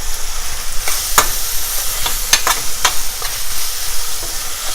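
Potatoes frying in a pan for Indian aloo gobhi, a steady sizzling hiss broken by several sharp scrapes and clinks of a spoon stirring them, close and fairly loud, no talk.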